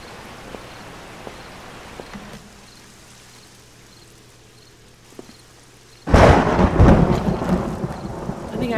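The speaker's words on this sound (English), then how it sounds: "It's always raining at this house and thundering." A thunderstorm with rain in the video game 7 Days to Die: a soft steady patter of rain, then a sudden loud crash of thunder that rumbles on heavily, close and alone.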